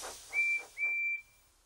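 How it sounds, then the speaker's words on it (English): Two loud, high steam engine whistle toots from Percy, the small green tank engine of Thomas & Friends, each held about a quarter to a third of a second with a short gap between, and nothing else heard. "Now Percy's whistle sounds very loud."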